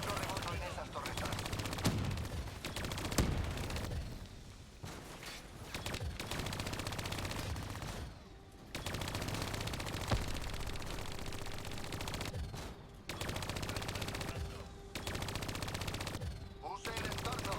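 Sustained automatic gunfire in Call of Duty: Black Ops 3, dense rattling bursts nearly continuous with short pauses between volleys, loud and close, with a faint tonal hum underneath.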